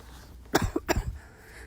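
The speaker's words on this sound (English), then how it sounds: "I'm only coughing because I've been round the hay." A few sharp coughs close up from a person who has been around hay on a farm, two main bursts with a smaller one trailing, with quiet room tone around them.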